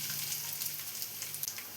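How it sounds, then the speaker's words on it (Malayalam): Grated coconut frying in two tablespoons of coconut oil in a pan, a steady soft sizzle and crackle that runs unbroken through the short stretch, with no voices over it. "ഇനി ഇതിലേക്കുള്ള തേങ്ങയൊന്ന് വറുത്തെടുക്കാം."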